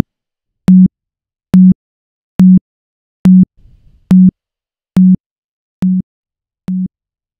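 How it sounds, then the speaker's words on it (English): A steady pure tone pulses on and off in eight short, evenly spaced beeps, each clean and low-pitched, with near silence between them. "when we play this by itself, you hear the sine wave"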